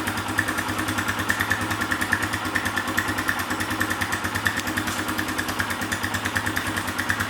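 A Kawasaki KLX 140 dirt bike fitted with a full carbon Pro Circuit exhaust idles steadily up close, its loud, even engine pulse throbbing without a break and with no talk over it.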